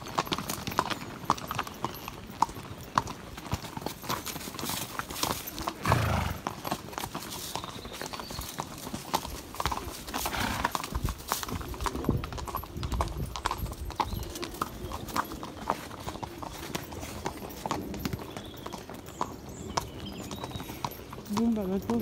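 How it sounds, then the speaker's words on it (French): Horses' hooves clip-clop and gallop along a countryside trail on an outdoor ride, steady rhythmic thuds close by amid wind and rustling, with people talking over them. "nos chevaux sont partis au galop"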